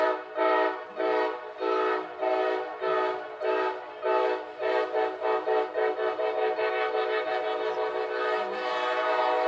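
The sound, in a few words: train horn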